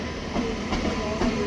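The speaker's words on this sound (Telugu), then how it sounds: "విజయవాడ 4వ నంబర్ ప్లాట్ఫామ్ మీదకి బండి వస్తుంది." The Janmabhoomi Express, a passenger train, arriving at platform 4 at Vijayawada station, with a steady loud rolling rumble and faint rhythmic wheel clacks, heard up close without voices.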